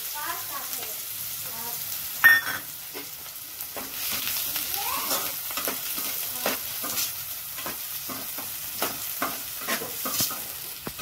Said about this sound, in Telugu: ఇగో నూనె పెట్టి ముందుగా ఉల్లిపాయలు వేయించుకుందాం.